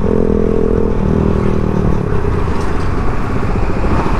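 A Yamaha XSR155 motorcycle is test ridden, its engine a loud, steady, close drone with rough low rumble and wind buffeting throughout, no speech.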